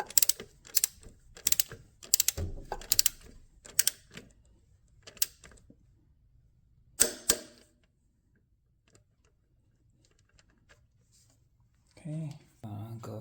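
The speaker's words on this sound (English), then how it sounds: "now tightening the upper 14 mm bolt. This one needs to be tightened to 33 foot-pound" Ratchet wrench tightening the upper 14 mm bolt on a Honda Accord engine mount, a run of sharp regular clicks close by, then a pause and a couple more clicks, with brief talk near the end.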